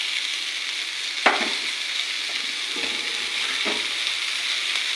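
Chopped dill greens (shepu bhaji) fry in a pan with a steady, close sizzle, broken by a few soft knocks and scrapes as the greens are stirred.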